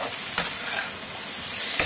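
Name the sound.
potatoes frying in a pan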